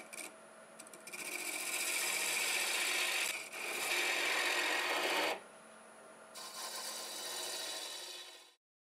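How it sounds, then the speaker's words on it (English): A half-inch bowl gouge cuts a wooden Christmas ornament on a lathe spinning around 1100 RPM, giving a steady, hissing scrape that pauses briefly twice before stopping. "back to the half-inch bowl gouge, and we'll be turning around 1100 RPM."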